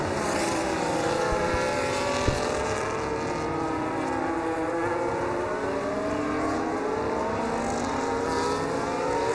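Race cars in a sim racing game at the Abu Dhabi Grand Prix, one flying by using DRS, with engines whining steadily and loudly in overlapping, sweeping pitches throughout, no talking.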